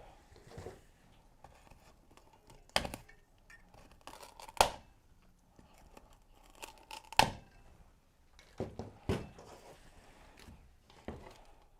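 Scissors trimming material for a silk flower snowman table centerpiece, several short sharp snips and tearing sounds spaced a second or two apart, close and fairly quiet.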